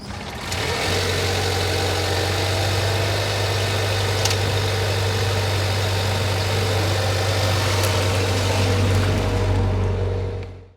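A 2026 Volvo XC60 T8 Ultra plug-in hybrid on the move, giving a steady, continuous low engine drone with broadband road and wind noise that holds at an even level throughout, with no talking.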